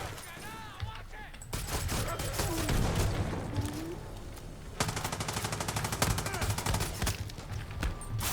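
A weapon fires in Far Cry 6, with rapid bursts of automatic gunfire alongside single shots, loud and close, mixed with game sounds while someone talks over the action.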